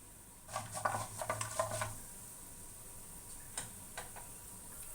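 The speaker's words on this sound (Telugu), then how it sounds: "పోపులు వేగాయి" Mustard seeds, cumin and chana dal tempering in hot oil crackle and pop in a quick cluster of sharp sizzles, then settle into a faint hiss with a few scattered pops.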